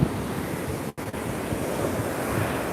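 Strong wind buffets the microphone on a beach, a loud roar mixed with crashing surf. It drops out for an instant near the start, then resumes with no speech.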